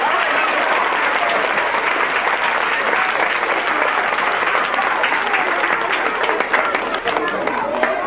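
Loud, sustained clapping from an audience, continuous and energetic throughout with faint crowd voices mixed in.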